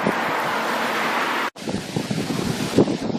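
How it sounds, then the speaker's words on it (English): Strong wind buffets the microphone with a loud, steady roar, briefly cutting out, then gusting again with rumbling bursts. "It's too windy, man."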